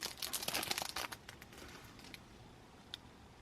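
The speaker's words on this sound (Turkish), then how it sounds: "Ve hemen lor bebeğimizin 8. poşetini açalım." A plastic blind-bag packet from a Num Noms toy being torn open up close, a burst of crinkling and tearing in the first second, then quieter rustles.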